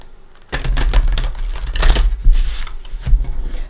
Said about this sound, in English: Let's go ahead and give the Tarot Dreams a few shuffles.